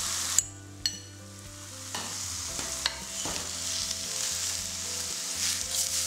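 Minced pork sizzles in a pan while it is broken up and stirred, with a few sharp clanks of a utensil early on and a steady frying hiss building underneath, close by and without talk.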